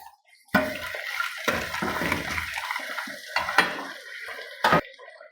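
Chillies and masala fry with chopped tomatoes for an aloo matar gajar salan, giving a steady close sizzle with clattering stirs and a sharp clink near the end.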